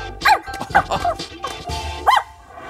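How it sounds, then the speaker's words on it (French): A small dog lets out a handful of short, bright yips and barks, close and clear, spaced unevenly over a couple of seconds with no talking over them. "Un chien."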